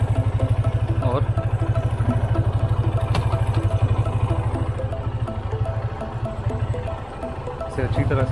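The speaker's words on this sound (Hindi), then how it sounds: "इंजन स्टार्ट किया है" A motorcycle engine idles steadily at close range after being started. It is a bike set up for chain and sprocket cleaning and lubing. Someone talks over the rhythmic clattering idle.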